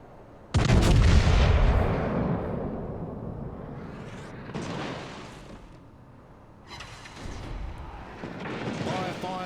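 Naval guns of the battleship HMS Hood firing in the World of Warships game: a sudden loud booming salvo, then further heavy rumbling blasts several seconds apart, with someone talking over the gunfire.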